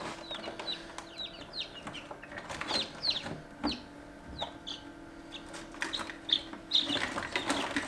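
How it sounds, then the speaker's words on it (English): Newly hatched chicks peep in high, rapid chirps from an incubator, with soft wing flutters and scrabbling, fairly faint and close. "Right then, little chickadees, are you ready to come out into the big wide world?"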